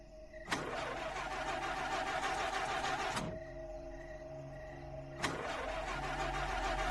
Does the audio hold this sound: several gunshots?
no